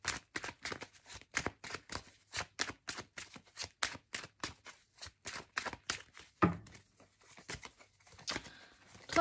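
Tarot cards being shuffled by hand, a close, steady run of crisp papery taps and flicks at an even pace, with a brief pause before a looser burst of card sounds at the end.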